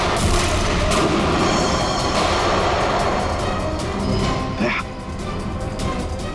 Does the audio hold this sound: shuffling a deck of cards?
no